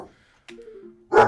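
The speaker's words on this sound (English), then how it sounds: "My dog. He's here." A pet dog indoors gives a short whimpering yelp, then a sharper bark about a second later. Both sounds are close and fairly loud, with near-silence between them.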